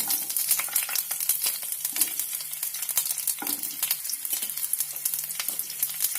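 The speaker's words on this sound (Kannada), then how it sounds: "ಸ್ವಲ್ಪ ಇದು ಫ್ರೈ ಆಗ್ತಾ ಇದ್ದೀನಿ." Long green chillies frying in hot oil for radish chutney, with a steady dense sizzle and crackle and a few stirring scrapes, close and continuous, with no talking.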